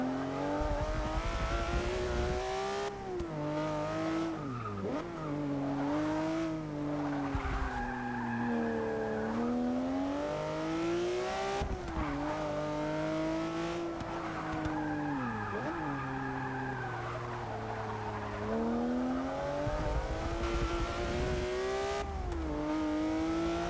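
A Porsche race car lapping a track in the racing game Forza 6, with a loud, continuous engine note rising and falling through gear changes, accompanied by tire squeal and skidding through the corners.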